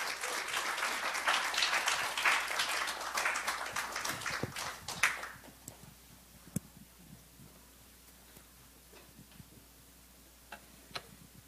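A church congregation applauds as a woman evangelist comes up to give her testimony. The clapping is moderately loud for about five seconds, then drops to a few isolated claps and taps in a quiet room.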